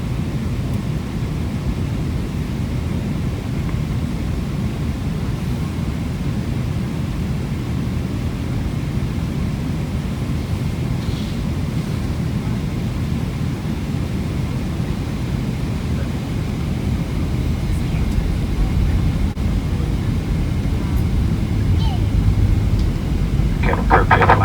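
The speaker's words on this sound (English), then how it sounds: "let me just play the landing the same way I did with the takeoff, with authentic plane sounds" Steady broadband roar inside the cabin of an Emirates Boeing 777-300ER during landing on a Kochi to Dubai flight, constant engine and air rush with a few faint clicks and a slight rise near the end.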